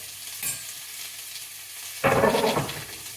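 Carrot, onion and celery hit hot oil with a brief rustle, then a loud burst of crackling sizzle as frying takes off, close up.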